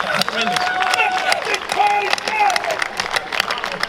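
Audience clapping and crowd noise at a pre-fight boxing press event in Saudi Arabia, a brief burst of applause mixed with voices and chatter across the room.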